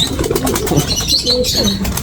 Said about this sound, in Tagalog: grabe, dami nating ibon